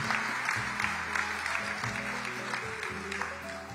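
Crowd applause honouring weightlifter Mihaela Cambei at an awards ceremony, a continuous wash of clapping heard under steady background music.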